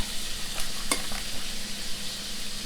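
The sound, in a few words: shrimp frying and sizzling in a pan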